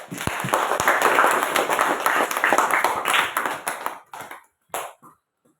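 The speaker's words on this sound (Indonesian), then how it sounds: "kita sama-sama beri tepuk tangan untuk kalian semua" Classroom applause for student group presentations, a brisk burst of many hands clapping that thins out and stops near the end, leaving a few scattered claps.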